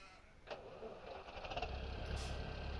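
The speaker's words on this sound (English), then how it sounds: "It's a cold one, but the tractor still starts." In Farming Simulator 17, a tractor engine cranks and starts on a cold day, with a brief click and then a low rumble building into a steady idle, quiet and heard alone.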